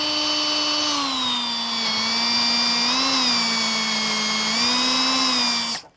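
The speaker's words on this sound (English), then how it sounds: "drill through." A power drill bores through the metal of a Cybertruck body while lubricated with WD-40, a loud steady whine that dips slightly in pitch under load and then cuts off abruptly at the end.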